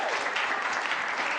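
A live audience at an SEO conference in Brighton gives a short, dense round of steady clapping, even and fairly loud throughout.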